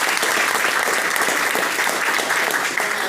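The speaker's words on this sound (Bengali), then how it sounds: "গেস্ট যারা আসেন তাদের জন্য আমরা জোরদার হাততালি দিই" Audience applause for guests at a company presentation on food supplements, a dense steady clatter of many hands clapping close by for the whole stretch, with no pauses.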